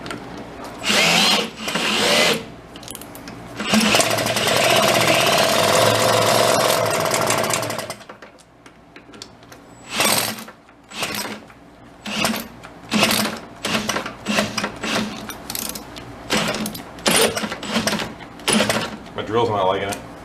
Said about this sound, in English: My drill's not liking it.